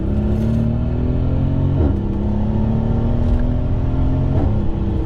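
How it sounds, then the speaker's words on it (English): Mercedes S-Class V12 engine drones from inside the well-insulated cabin, a steady loud hum with slight pitch shifts as it pulls and shifts gears. "that V12 sound that you'll hear a lot more from the outside of the car."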